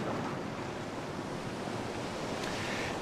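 Sea waves roll and wash steadily onto a shore, forming a continuous faint surf roar with wind noise and no talk.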